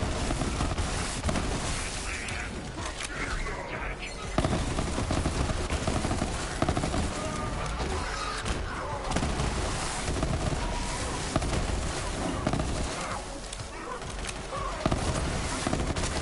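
The Hornet legendary pistol fires in Borderlands 3, a dense run of rapid shots blending with loud, continuous combat noise throughout, with a voice talking faintly in places.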